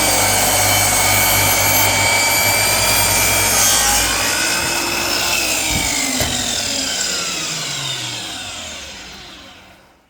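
A DeWalt DWS780 miter saw makes a 45-degree cut through wood, a loud, sustained high whine with grinding bite that fades as the blade spins down at the end.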